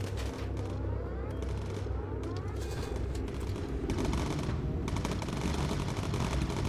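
Turret machine guns on a WW2 bomber in Bomber Crew, dense rapid rattling bursts that run nearly nonstop, fairly quiet overall, with brief pauses between volleys.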